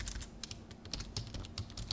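A terminal command is typed on a computer keyboard as a quick, quiet run of soft key clicks in an irregular rhythm, heard close up without talk.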